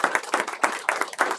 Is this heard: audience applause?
yes